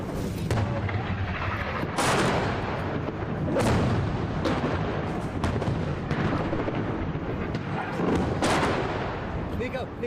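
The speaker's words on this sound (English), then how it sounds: "So these seem to be mortars. And they are coming in very close." Mortar shells land close by in a war zone, heavy booming impacts recurring every couple of seconds over a constant roar, with voices mixed in.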